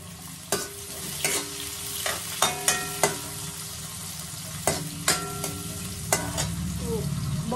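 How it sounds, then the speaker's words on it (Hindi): Onions frying for upma in a pan, a steady close sizzle broken by a series of sharp spoon-against-pan scrapes and taps as they are stirred, with no talking. "डाल रही हूँ ऑनियन"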